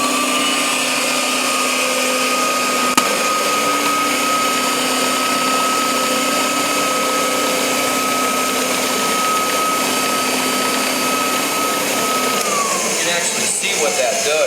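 A pile lifter carpet machine with an aggressive rotating brush runs on nylon Berber carpet, giving a continuous loud motor whine with a steady tone that drops away near the end.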